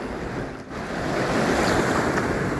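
Ocean surf rolls in on the beach at Nr. Vorupør, a loud, continuous wash of waves mixed with wind buffeting the microphone, with no voices.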